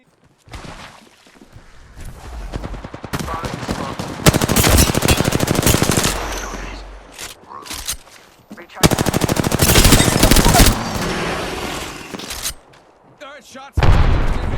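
Rapid automatic gunfire comes in long loud bursts with short pauses between them during a firefight in the video game Apex Legends, with some talk mixed in.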